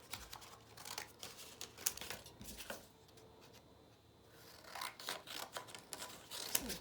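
Paper pieces for a cube being cut with scissors at close range, irregular snips and rustling paper handling with a quieter pause midway.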